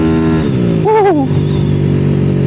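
A motorcycle engine revs hard at almost full throttle, a loud close rising and falling whine with a wavering pitch sweep, under wind rush.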